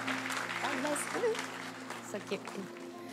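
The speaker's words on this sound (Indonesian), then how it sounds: "Boleh sekali lagi kasih tepuk tangan buat mereka." A church congregation at a Sunday service applauds steadily at a moderate level, beneath a sustained musical tone and a speaking voice.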